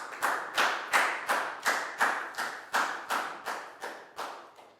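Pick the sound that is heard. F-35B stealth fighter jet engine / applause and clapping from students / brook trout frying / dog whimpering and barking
applause and clapping from students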